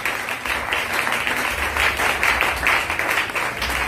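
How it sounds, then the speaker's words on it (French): A church congregation applauding after a sermon, dense rapid clapping from many hands filling the room, loud and sustained throughout. "Nous acclamons pour la parole."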